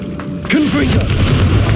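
The Confringo spell bursts in Hogwarts Legacy with a deep, loud boom right up close, followed by a rumbling tail, while a voice speaks over it.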